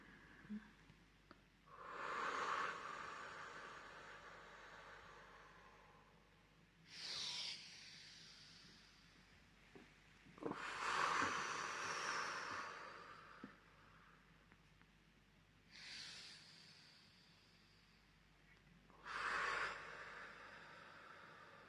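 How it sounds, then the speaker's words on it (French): Three slow, deep breaths, each a long airy inhale and exhale swelling and fading at an even pace, close and quiet with soft pauses between them. "je fais 3 grandes respirations et expirations"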